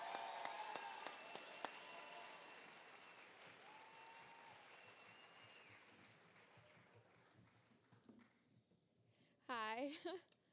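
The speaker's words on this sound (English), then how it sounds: "Give them a big round of applause." Graduation audience applauding for graduates, a broad wash of clapping that fades gradually, followed by a short burst of voice at the end.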